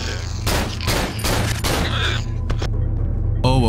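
Rapid bursts of gunfire from the horror video game Cry of Fear, several loud shots fired in quick succession with booming echoes, followed by a brief quieter stretch and a final burst of noise.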